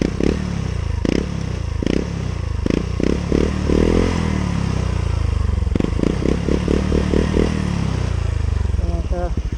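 Honda Click 125i scooter fitted with a new EXOS X6 exhaust pipe, running close by with a steady idle broken by repeated short throttle blips and a quicker burst of revs near the end.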